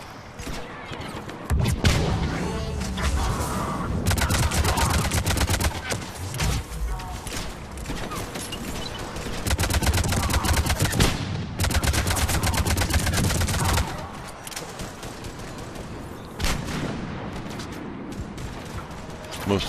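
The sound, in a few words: assault rifle gunfire in video game Mass Effect 3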